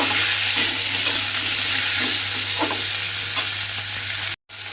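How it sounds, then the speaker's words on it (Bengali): Salted okra fries in a pan, a loud, continuous close-up sizzle with soft scraping as the pieces are stirred, cut off by a brief silence near the end. "এবারে ঢ্যাঁড়সগুলো প্রথমে খুব ভালো করে একটু লাল করে ভেজে নিতে হবে"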